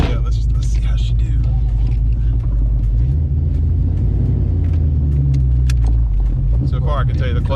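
A Ford Fox Body convertible with a swapped 306 V8 rumbles along at low revs, its engine note shifting as it pulls away and gathers pace, with people talking over the drone throughout.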